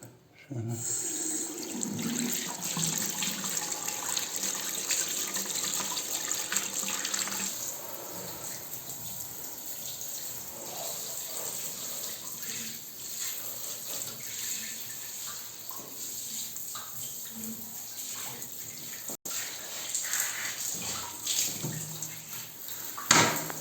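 Tap water runs steadily into a sink while toilet seat lids are washed, a continuous close splashing with occasional shifts as the flow hits the plastic, and a voice speaks over it.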